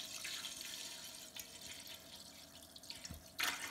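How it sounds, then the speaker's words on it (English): Apple cider is poured into a Le Creuset 10-quart stock pot, giving a soft, faint liquid trickle and splash, with a brief louder splash near the end and no talk heard. "So you're just gonna pour in your apple cider"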